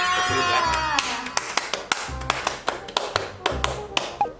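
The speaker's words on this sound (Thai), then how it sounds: "ขอเสียงปรบมือ" A few people at a Thai cooking show clapping their hands, a string of sharp, irregular claps that starts after a second and continues to the end, with speech running under it.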